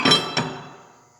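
An aluminum top plate set onto a 6 by 9 inch aluminum pollen press mold gives two quick metallic clinks, the second slightly softer, each ringing briefly before fading into silence.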